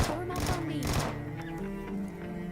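Rapid bursts of gunfire from a Vector in a video game battle, dense crackling volleys in the first second and thinner shots trailing after, mixed with a game din and a voice.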